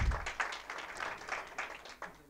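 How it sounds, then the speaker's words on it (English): An audience at a women entrepreneurs' event applauds to welcome a speaker, with a soft, fairly distant, scattered patter of clapping lasting a couple of seconds. "So please give her a big round of applause."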